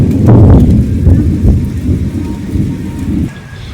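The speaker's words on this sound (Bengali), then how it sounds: "ওই দেখো আবার মেঘ ডাকছে।" Thunder rumbles loudly over steady rain in a village during an unseasonal storm, with deep rolling booms that fade toward the end.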